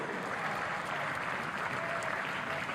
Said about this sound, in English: I think we should also give a round of applause to the coach, Joseph Palatides.